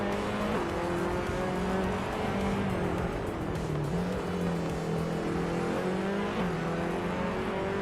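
Racing engine of a 2015 Seat Leon in a racing video game, a steady, loud whine with small pitch shifts under acceleration and shifting, continuous throughout with no speech.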